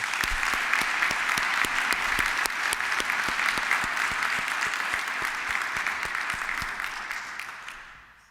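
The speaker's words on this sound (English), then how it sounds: "And give them a round of applause, please." Sustained applause from a large audience at a university opening ceremony, a dense even wash of clapping that holds steady and then fades out toward the end.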